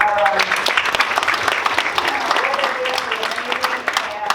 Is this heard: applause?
yes